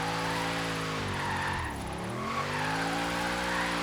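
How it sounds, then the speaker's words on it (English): Car drifting through traffic in Forza Horizon 3, a wheelspin drift build without drift suspension: a steady, loud engine drone with continuous tire squeal, the pitch dipping mid-clip as the car slides, then climbing again. "So I'm here driving and drifting between all this traffic"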